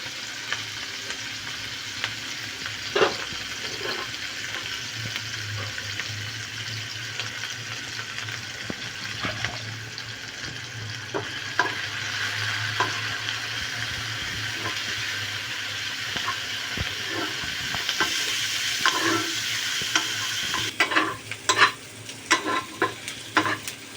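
Chopped garlic, onion, ginger and green chilli fry lightly in a pan, a soft steady sizzle with occasional clicks and scrapes of stirring that grow busier toward the end.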